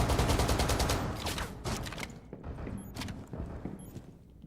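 Rapid gunfire tears into a wall in the mobile shooter Rainbow Six Mobile. A dense, loud burst of automatic shots is followed by sparser single cracks and thuds.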